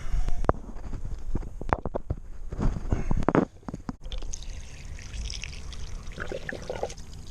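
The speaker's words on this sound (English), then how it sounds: "you can see that water is just draining away" Water draining out of a pool filter as it is winterized, with a gurgling, trickling pour and a few louder splashes and knocks early on, then a quieter steady trickle toward the end.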